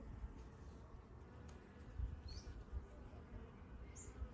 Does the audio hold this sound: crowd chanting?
no